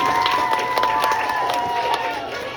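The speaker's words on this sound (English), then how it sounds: "How about a big round of applause for our fire fingers?" A crowd cheers and claps for a fire-fingers performer, dense applause with shouts and voices under a steady tone, continuous and fairly loud.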